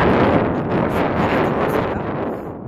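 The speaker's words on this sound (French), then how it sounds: "Il y a beaucoup de vent." Strong wind by a lake buffets the microphone in a loud, continuous roar of broadband rumble that holds steady and eases slightly toward the end.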